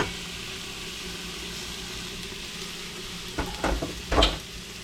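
Onions tipped back into a slow cooker pot set to sauté, a low even sizzle followed by a few clattering scrapes and thumps near the end.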